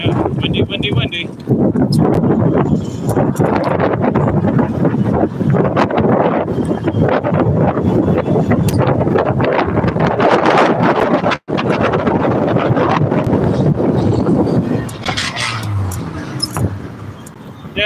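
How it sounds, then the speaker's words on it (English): Strong wind buffets the microphone in a constant loud roar, with a voice talking underneath. "windy, windy, windy"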